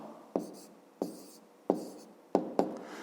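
Close, quiet pen strokes as answers to a Ukrainian fifth-grade maths exercise are written down, five crisp taps and scratches at slightly uneven intervals, with no voices.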